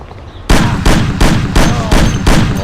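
Loud gunshots in the PC game Mafia ring out in a rapid, evenly spaced series of about six close, heavy reports, each with a short echoing tail.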